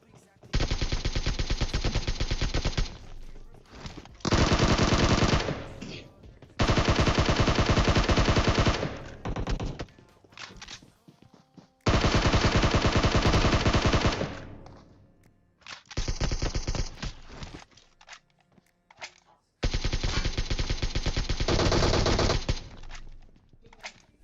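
Repeated long bursts of rapid automatic gunfire in PUBG Mobile, loud and close, separated by brief pauses.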